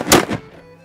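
A Brown Bess or Charleville flintlock musket fires at a pumpkin target, giving a single loud, close blast that quickly decays into a short ringing tail.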